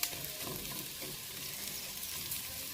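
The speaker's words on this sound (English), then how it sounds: "these peppers and onions start warming up" Sliced peppers and onions sizzle and crackle steadily in a hot pan, a dense close hiss with small pops and stirring scrapes, no voices.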